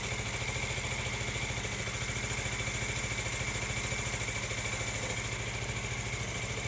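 Bajaj Dominar 400 motorcycle engine idling on a lean fuel mixture, a steady, even mechanical putter with rapid regular pulses, close and continuous with no speech.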